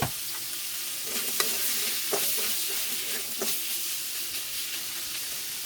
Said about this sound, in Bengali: এই তেলের মধ্যেই আবার আমি মাছটা ভেজে নেব